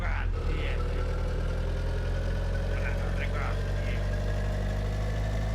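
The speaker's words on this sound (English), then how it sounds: "I can barely hear the guy over the engine." A loud, steady car engine rumble in the video game My Summer Car drones throughout, like idling or cruising, with brief voices faintly audible beneath it.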